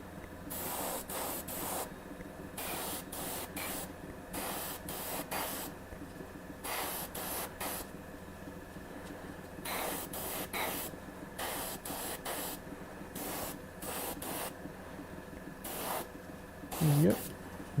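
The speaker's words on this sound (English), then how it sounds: "yep, and now we can spray again." Bursts of spray paint hiss onto Black Widow baton and Mjolnir props at a painting workshop, about a dozen short blasts of a second or so each in steady rhythm, close and loud, with a brief voice near the end.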